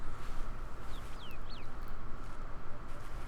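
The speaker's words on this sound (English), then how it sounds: "I guess it could be a bird, but it sounds like a really strange one." A strange bird in Indiana Jones and the Great Circle gives a few quick, rising and falling whistled chirps over a dense, rough background din.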